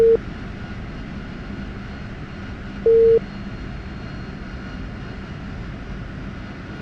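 A jet engine idles in DCS World, a steady broadband rumble and hiss with two short tonal warning beeps over it.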